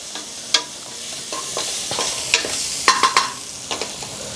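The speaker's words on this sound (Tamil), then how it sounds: "இதை அப்படியே லைட்டாக வதக்கிக்கோங்க." Garlic and ginger sauté lightly in a pan for rice porridge, with soft sizzling under a run of scattered stirring scrapes and clicks, close and moderately loud, no talking.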